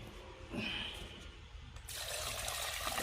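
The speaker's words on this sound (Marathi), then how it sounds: "आता त्याला साध्या पाण्यात धुवून घेऊ" Water trickling and splashing from a running tap while goat trotters are rinsed, growing into a steady, fuller stream partway through; close and continuous with no voices.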